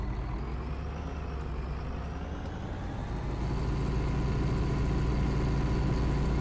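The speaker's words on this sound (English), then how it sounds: "Sounds a lot different, this tractor." A tractor engine in Farming Simulator 19 drones steadily with a low, even hum that thickens slightly midway, with no talking over it.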